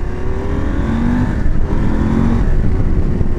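A KTM 890 Adventure R engine drones loud and close while riding, a dense low rumble with a steady hum and slight pitch shifts as the throttle varies, mixed with wind noise and no talking.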